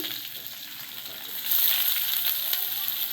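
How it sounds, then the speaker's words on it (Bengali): Chopped onion and nigella seeds fry in hot oil, sending up a bright, steady sizzle that jumps louder partway through as more onion goes into the pan, with no talking. "এবার কালো জিরে ফোড়ন দিচ্ছি, পেঁয়াজ কুচি দিচ্ছি"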